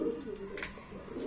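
Pigeons coo in a low, rounded murmur at close range, the soft calls rising and falling steadily across the short stretch with a brief higher chirp near the middle.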